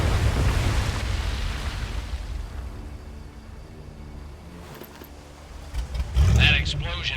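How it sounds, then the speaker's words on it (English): A loud, rumbling explosion in the World War II shooter Medal of Honor: Above and Beyond, a heavy low boom that fades into a long rumble, with a second burst near the end. "That explosion got the attention of all the German patrols in the area."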